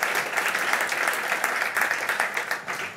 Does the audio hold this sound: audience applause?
yes